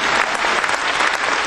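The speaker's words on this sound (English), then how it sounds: "Let's clap our hands to Jesus one more time." A church congregation claps their hands together in loud, sustained applause that fills the space for a moment before fading.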